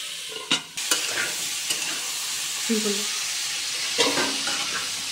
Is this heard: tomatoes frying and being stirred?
yes